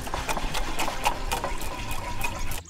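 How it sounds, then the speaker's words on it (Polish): Pork broth being poured into a mustard sauce in a pan, a steady close liquid pour with faint rhythmic bubbling and clicks throughout, no speech over it. "dodaję bulionu, który najlepiej, żeby był według receptury historycznej przygotowywany na kiełbasie"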